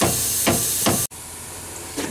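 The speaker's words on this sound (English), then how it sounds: "I took the hammer, hit it on top of the leaf" A hammer strikes a rusted leaf spring on a Jeep Wrangler YJ rear axle, making two or three dull metallic knocks about half a second apart, fairly close, followed by another faint knock.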